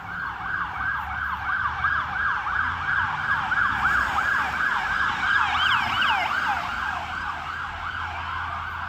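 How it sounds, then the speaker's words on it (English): A wailing emergency siren cycles rapidly up and down, loud and continuous, over a low traffic rumble. "trying to figure out where these sirens came from."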